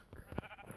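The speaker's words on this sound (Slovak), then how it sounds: "Milión ovce sú." A sheep bleats in the video game Minecraft, a short, faint nasal bleat with a couple of quieter bursts around it, heard alone.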